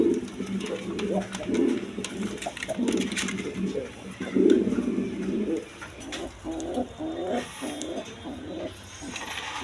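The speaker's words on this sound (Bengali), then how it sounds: "এক পেয়ার এখানে শাড়ি কবুতর দেখতে পারবেন" Shiraji pigeons at a farm coo in low, repeated throaty phrases nearby, while a person talks over them for much of the time.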